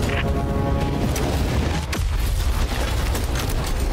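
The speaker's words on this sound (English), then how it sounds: "That's an explosion." An explosion rings out in Helldivers 2 amid a battle at an enemy compound, a heavy booming blast with deep rumbling and crackling gunfire that continues loudly throughout, with no talk.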